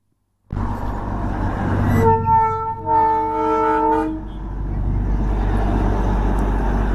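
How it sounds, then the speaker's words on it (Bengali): The Darjeeling toy train running from Ghum toward Batasia Loop starts with a sudden loud engine rumble, then sounds a long multi-tone horn for about two seconds and keeps up a steady heavy rumble afterward. "ঘুম থেকে বাতাসিয়া লুপের দিকে আর কি যাচ্ছে এরকম টয় ট্রেন"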